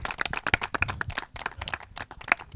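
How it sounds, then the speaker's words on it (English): An audience claps for panel speakers at a satellite technology conference, a modest round of distinct, uneven hand claps close by, moderately loud and fading slightly toward the end. "Yeah, big round of applause for them."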